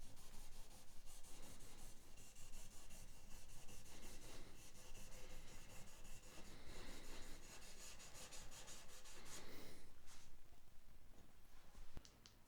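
A rag rubs back and forth over the oiled wood of a Seagull S6 acoustic guitar, wiping off the excess in quick, scratchy strokes heard up close and faint, with no voices.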